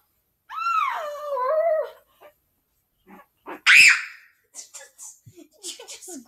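A dog gives a drawn-out, whining howl-like vocalization, then a few short yips and a sharp bark nearby, followed by soft scattered sounds and brief human talk.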